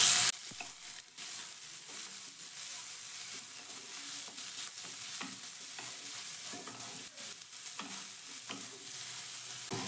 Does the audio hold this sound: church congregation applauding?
no